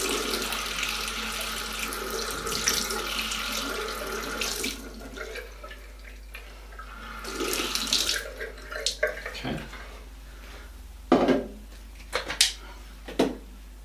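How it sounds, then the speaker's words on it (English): A bathroom tap runs water into a Fairywill water flosser reservoir, a steady close splashing flow that eases off midway, swells again, then gives way to a few short bumps and clunks. "put that bit under the tap, which is probably the easier way to fill it up"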